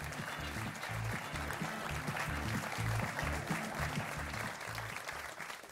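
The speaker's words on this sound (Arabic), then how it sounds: "تصفقوا عليه تصفقات عليه" A studio audience on a Moroccan TV talk show applauds a guest from Agadir, with steady, dense clapping throughout and faint music underneath.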